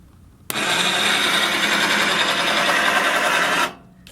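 A bandsaw mill head lowers down to its next notch, its motor starting abruptly into a loud, steady whirring drive that holds for about three seconds before cutting off and winding down.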